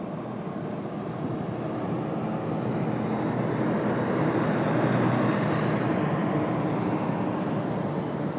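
An ERJ regional jet lands on runway 1 center, a broad steady roar with a faint whine that swells slightly near the middle and holds, with no talk.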